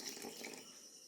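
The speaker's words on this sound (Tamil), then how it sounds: "இதை நான் அளவான தண்ணி விட்டு கரைச்சி வைக்க போகிறேன்." Water poured into semolina (rava) for dosa batter in a village home kitchen, a steady soft trickling splash running throughout at low volume with no talk.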